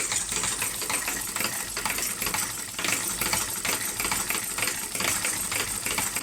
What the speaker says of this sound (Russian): Работа движка.